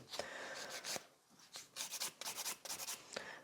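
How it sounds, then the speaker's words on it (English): An electric nail file works over a fingernail in short, quiet bursts of buzzing, grinding contact, close up and repeated in quick strokes. "I have to e-file this place"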